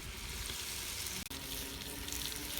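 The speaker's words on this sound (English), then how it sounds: "Now I am adding the baby onions and the jam. About 90 grams of jam. And stirring it together." Baby onions and jam are added to a chicken potjiekos and stirred, giving a steady close sizzle and bubbling with soft wet stirring and one brief clunk partway through.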